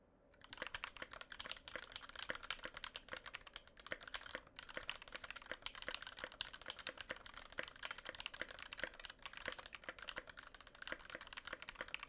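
Steady, rapid typing on a computer keyboard fitted with GMK Mizu keycaps, with dense clacking keystrokes close to the mic that continue without pause for the whole stretch and no talking.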